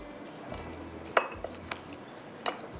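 Fish being mixed in a bowl: a few sharp clinks and knocks of a utensil against the bowl over a low steady background, spaced irregularly, with no speech.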